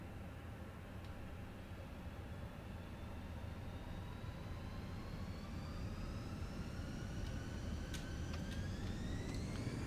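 An Airbus A320 in Microsoft Flight Simulator spools its engines up for takeoff, a steady broadband roar with rising whining tones climbing in pitch over about ten seconds, with a few faint clicks late on.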